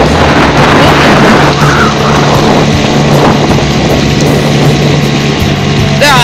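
A small motorboat's engine runs on a pleasure ride across the water, a loud, steady droning hum that holds constant over the whole stretch, mixed with wind and water noise.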